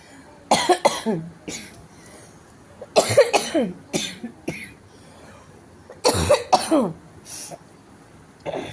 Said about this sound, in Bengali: আর একটু কাশি রয়েছে,